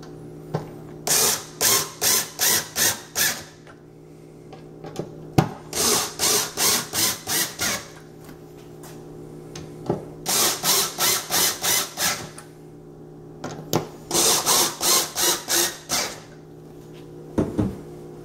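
Screws being driven into particleboard while assembling an IKEA Micke drawer unit, heard as four close bursts of rapid ratcheting clicks, each a quick run of evenly spaced turns with brief pauses between.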